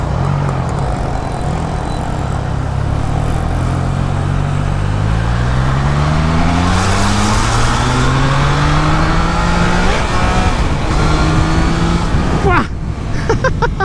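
A Triumph Trident 660 street motorcycle revs and accelerates on the road, its engine note climbing repeatedly through the gears under steady wind rush, loud and close throughout, with a brief dip near the end.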